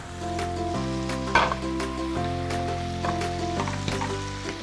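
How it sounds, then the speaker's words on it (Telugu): Chicken fries in butter in a pan for a Thai-style stir fry, a steady loud sizzle with crackling pops and a brief scrape of a stirring utensil, with no talking. "ఈ చికెన్ అలా కుక్ అవుతూ ఉంటుంది"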